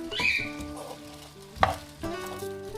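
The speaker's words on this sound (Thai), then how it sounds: "หลังจากที่เราใส่ข้าวลงไปแล้ว เราจะต้องคนอย่างต่อเนื่อง กับเเติมคอยเติมน้ำซุปเรื่อยๆด้วยค่ะ" Artichoke risotto rice sizzles gently in a pan as it is stirred continuously while broth is added, producing soft scraping and frying crackle with one sharper clink of a utensil midway.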